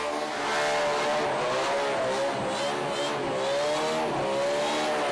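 A burnout car at a Summernats Burnout Masters round in Western Australia screams at around 9,000 rpm, a loud, sustained high engine wail with rising and falling rev harmonics, heard up close and alone.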